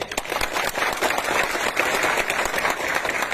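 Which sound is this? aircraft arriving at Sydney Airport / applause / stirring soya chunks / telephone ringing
applause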